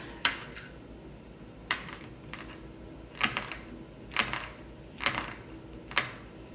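A knife chops ingredients for black bean fritters on a cutting board, about seven crisp, separate taps at an uneven, unhurried pace, fairly quiet and close, with no talking.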